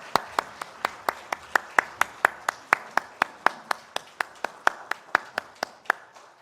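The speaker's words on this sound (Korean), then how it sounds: "하나님께 영광의 박수 함께 올려드리겠습니다" A church congregation claps in unison at a Sunday worship service, about three sharp claps per second in a steady, even rhythm, fairly close and clear, with no talking over it.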